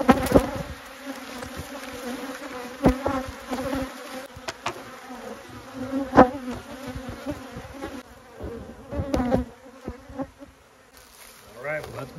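Honeybees buzz loudly and constantly during a swarm trap transfer, a dense insect drone rising and falling close by, with sharp knocks and bumps of the trap and lid scattered throughout.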